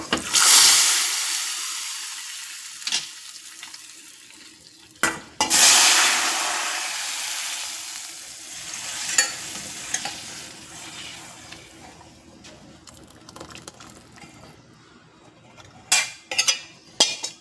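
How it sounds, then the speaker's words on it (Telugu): Tempering poured into hot tamarind and ajwain-leaf rasam: a loud burst of sizzling as hot oil hits the liquid, then a steady hiss fading over time, with a few sharp clinks of a pan or utensil. "తాలింపు రసంలో వేసేద్దాం చూసారా"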